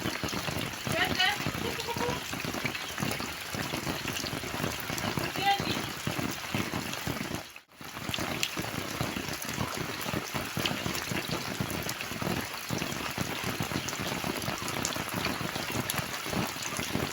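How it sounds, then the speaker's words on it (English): Heavy rain from a storm pours down steadily in a village, a dense loud hiss of drops on surfaces with a brief lull midway, while a voice talks over it. "And rain is coming back again."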